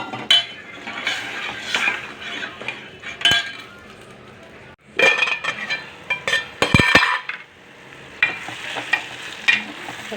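Tamarind extract being poured into a hot tempering with curry leaves in a cooking pot, with stirring, sizzling and metal utensil clinks against the pot, loud bursts at intervals with a short quiet pause midway.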